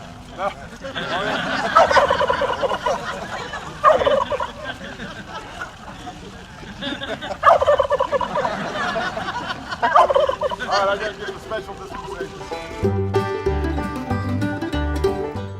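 Two pardoned turkeys gobble in repeated loud bursts, alternating calls over a babbling background, before music comes in near the end.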